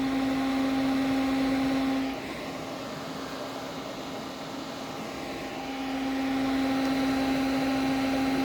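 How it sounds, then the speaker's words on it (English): The fan motor of a Tatung Heat Devil Mini EH-5710 ceramic heater runs with its heating element switched off, a steady tonal hum and airy whir that dips slightly in the middle before returning. "now I'm gonna cut the heater off because I want to see what it draws with just the fan motor draws"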